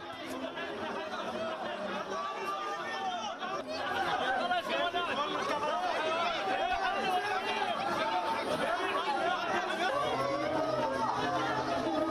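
A crowd at a funeral procession in Gaza fills the scene with dense, continuous voices, a shouting mass of mourners that swells louder partway through and stays steady to the end.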